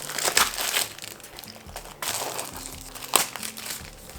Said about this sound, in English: all I have to do is peel off this plastic so I can use the canvas underneath